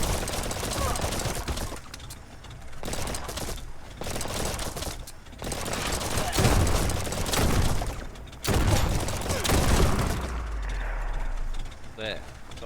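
Rapid bursts of enemy gunfire from the video game Biomutant crackle and boom in loud, dense volleys throughout, with a talking voice heard over the shooting.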